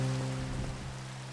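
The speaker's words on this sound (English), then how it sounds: "it's because it's raining." Rain falls in a Minecraft modpack survival game, a soft continuous wash of patter over a low humming drone, short and steady.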